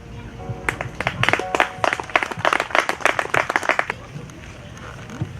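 Brief applause from a small audience at a poetry reading, a few seconds of scattered clapping that swells and fades, with a voice speaking around it.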